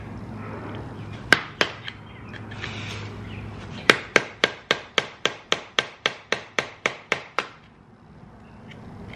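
Metal hammer blows ring out while fitting big brake kit rotors on a Volkswagen Golf R: two isolated strikes, then a rapid, regular run of about fifteen sharp hits before quiet returns.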